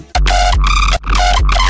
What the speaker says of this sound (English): I'm routing the sub and the main bass together on this track to clip the sub and the bass together.